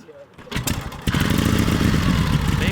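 A kick-started motorcycle engine catches after a brief scuffle of the kick and settles into a loud, steady running drone, with a person talking over it.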